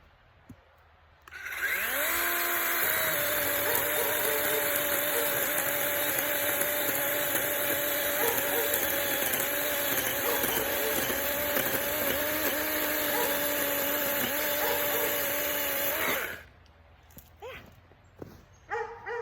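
A battery-powered chainsaw cutting up a small tree in the snowy Maine woods spins up, then whines steadily and loudly for about fourteen seconds through the cut before winding down, followed by faint rustling.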